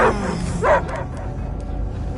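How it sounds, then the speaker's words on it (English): A dog barks in the video game Guardians of the Galaxy: two short yipping barks, the second a little louder, over a steady low game soundscape with no speech. "I hear only barking."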